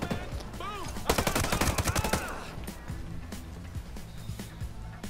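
Gunfire in the video game Ghost Recon Breakpoint, a rapid burst of automatic shots at mid distance amid game ambience, followed by a few scattered single shots.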